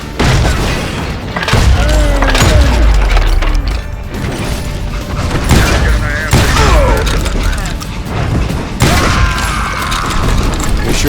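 Repeated gunshots and mechanical clatter from the Western shooter Call of Juarez: Gunslinger, loud and dense throughout, with bursts separated by short gaps and a voice talking over the action.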